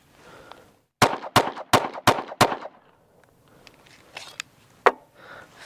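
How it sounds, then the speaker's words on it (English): Five sharp Sig P365 pistol shots fired from a stock XL slide with an XMacro grip, evenly spaced and loud, followed by a single later report amid faint range noise. "Do 5 shots."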